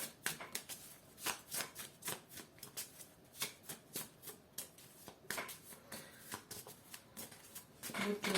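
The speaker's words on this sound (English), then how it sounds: "Haven't shuffled it enough." A deck of tarot cards is shuffled by hand at close range, a rapid run of crisp riffling flicks in repeated bursts, faint and intimate.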